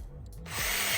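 A power drill bores a pilot hole into a bicycle frame on a budget 700c gravel bike, starting with short revving bursts and then settling into one loud, steady cutting whine.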